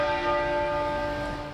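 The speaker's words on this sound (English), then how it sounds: "the bells tolled in a solemn tribute to the Queen" Church bells toll at midday across the United Kingdom in tribute to Queen Elizabeth, a sustained ringing bell tone with long resonant overtones, moderately distant and fading slightly, with no voices.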